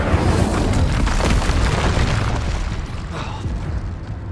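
A fire spell blast in Hogwarts Legacy, a loud roaring boom of rushing flame and rumble that swells at once and fades slowly over several seconds.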